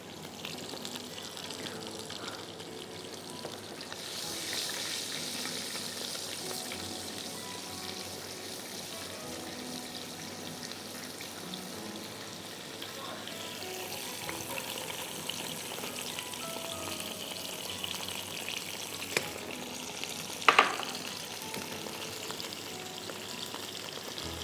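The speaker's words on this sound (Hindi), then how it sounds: "अब इसके बाद हम इसमें डालेंगे चॉप्ड अनियन" Chopped onions frying in a pan make a continuous moderate sizzle with bubbling, watery crackle and occasional light clinks, steady for the whole stretch and free of talk.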